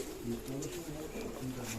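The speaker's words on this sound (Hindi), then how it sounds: "कबूतर एक साथ दाना खा रहे हैं" Pigeons coo in low, rolling murmurs while feeding on grain, several overlapping calls close by with faint pecking and rustling.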